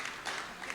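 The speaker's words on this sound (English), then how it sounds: "Round of applause." Brief, faint round of hand clapping from an audience in a lecture or ceremony hall, steady and soft with a few louder claps.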